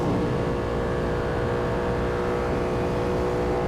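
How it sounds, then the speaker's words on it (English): A BMW engine revving hard, loud and close, with a continuous, strained, droning roar that holds steady throughout. "Those pops, man. On the upshift"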